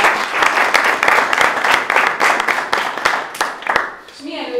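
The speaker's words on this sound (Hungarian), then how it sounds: "még egyszer nagy tapsot kérek az óvónéniknek is" A crowd gives lively applause for the kindergarten teachers at the reopening of a renovated kindergarten, with crisp, close hand claps and a few voices under them. The clapping thins toward the end as it fades.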